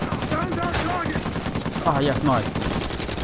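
Gunfire in the Uncharted 4 video game: rapid bursts of close, loud shots in a quick, uneven rhythm, with someone briefly talking over the shooting.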